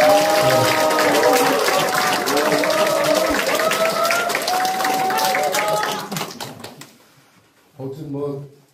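Audience at a regional committee launch ceremony in Boeun, Korea, claps and cheers under a loudspeaker voice for about six seconds, then the applause dies away and a brief spoken phrase follows.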